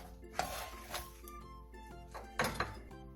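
A knife slices an onion into thick rounds and cuts green onion on a cutting board, giving a few faint, sharp knocks and clinks over soft background music.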